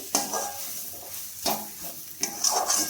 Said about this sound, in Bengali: এইভাবে নেড়ে চেড়ে একদম শুকনো করে নিতে হবে, যেন এর মধ্যে কোনো জল না থাকে।